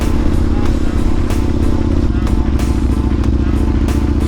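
A motorcycle rides close along an old concrete airfield runway, its engine a continuous loud low thrum with rhythmic clicks and ticks from the surface, sustained throughout with no pause.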